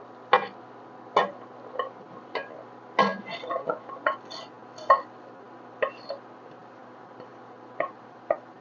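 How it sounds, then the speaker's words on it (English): Carrots, bok choy and onions tumble into a vegetable stew pot, making a dozen or so sharp, light clicks and clinks at uneven intervals over a quiet background, with no talking. "Now we add the carrots, bok choy, and onions."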